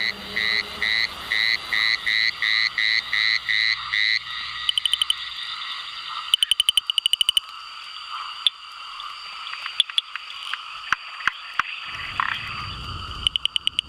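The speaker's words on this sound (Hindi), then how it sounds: "ये वक्त मेंढकों की टरटराहट का है।" Frogs croak at night in a Western Ghats forest during the pre-monsoon, first as a fast, regular pulsing chorus, then as scattered sharp clicks and calls over a steady high insect-like drone, loud and close.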